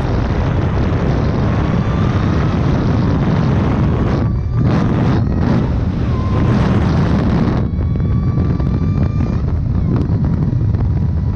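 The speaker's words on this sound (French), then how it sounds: "le vent que vous vous prenez dans la gueule est assez impressionnant" Loud, constant roar of wind rushing past an open Ariel Atom car while driving, dense and unbroken for the whole stretch, with a faint engine whine underneath.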